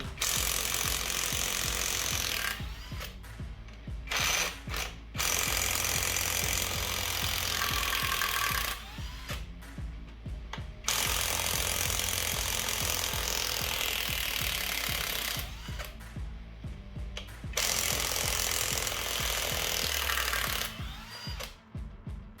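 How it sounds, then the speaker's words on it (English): An impact wrench hammers at bolts during a Citroen C5 2.0 HDi engine teardown, firing in loud rattling bursts of a few seconds each, broken by short quiet gaps, close and alone. "I have an impact head. Impact head works really well."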